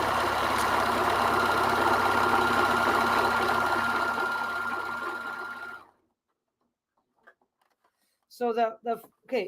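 A sewing machine run by a foot pedal whirs steadily and loudly, winding down and stopping about six seconds in, followed by a few faint clicks and then a person speaking.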